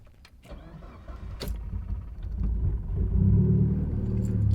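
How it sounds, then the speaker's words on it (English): Mitsubishi Evo 8 engine firing up from a warm start, a rough cranking catch that swells into a loud, uneven low rumble and settles into a heavy idle, close by with no talking. "Those warm starts, man, they're getting better. They're still pretty rough though."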